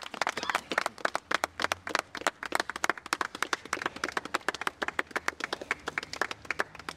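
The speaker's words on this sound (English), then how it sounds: "Give them a big round of applause" An audience at an event for the Royal British Legion claps steadily, dense, close and lively applause with no voices over it.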